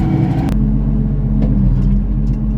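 A Steiger tractor engine idles and rumbles steadily up close, with a deep continuous vibration, heavy low-end throb and a brief sharp clatter early on.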